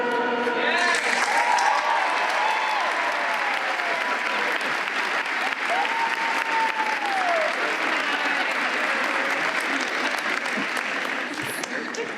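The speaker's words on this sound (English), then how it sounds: "Round of applause for Sunny Willis." Graduation audience at Greensboro Day School breaks into sustained applause for a speaker, a thick, steady wash of many hands clapping in a large hall, with voices and cheers mixed in at the start.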